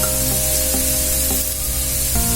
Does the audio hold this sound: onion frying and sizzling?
yes